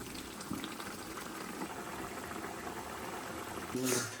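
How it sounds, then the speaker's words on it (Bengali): Chutney in a pot coming up to a boil, a soft steady bubbling hiss, quiet and close, with a brief louder burst near the end. "ফুটে উঠলেই নামিয়ে নেব।"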